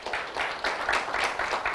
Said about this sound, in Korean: 박수로 확인해 주시기 바랍니다.